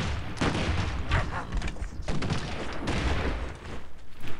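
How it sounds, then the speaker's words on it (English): Cannons bombarding a city in the strategy game Civilization 4, with a dense run of loud booming blasts and crackling gunfire that rolls on continuously for several seconds. "Got more cannons here. Bombard."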